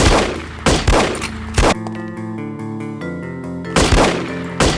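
Bursts of gunfire in the shooter game No One Lives Forever: a rapid volley of loud shots, a stretch of tonal game music, then another quick cluster of shots. No one talks.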